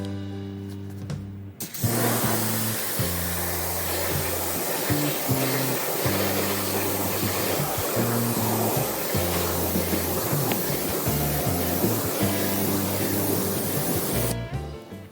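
A steady, loud hiss of water spraying the wheels of a 2000 Saab 9-5 Aero runs continuously over a low rumbling engine hum, starting abruptly and cutting off near the end.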